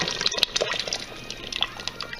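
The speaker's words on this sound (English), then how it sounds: "go ahead and pour that into the stock and the meat" Peanut butter mixture poured into boiling meat stock for maafe, a steady liquid gush and sloshing with bubbling texture, close and moderately loud with no talk.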